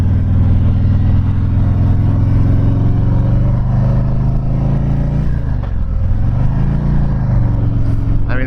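A 2019 Harley-Davidson Road King rumbles loudly and close as it rides onto a highway, the deep engine note steady with a dip and swell as the rider shifts or changes throttle.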